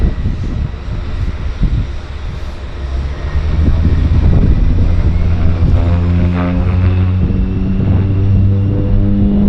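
A propeller floatplane roars through its takeoff at Vancouver Harbour Airport, a steady loud engine drone with rising tonal bands and buffeting wind noise, no talk.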